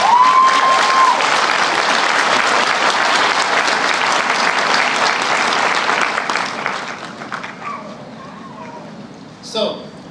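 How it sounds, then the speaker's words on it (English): A large audience at a graduation ceremony breaks into loud, sustained applause for about seven seconds, then the clapping thins and fades out, and a voice speaks briefly near the end. "Let's give them a round of applause."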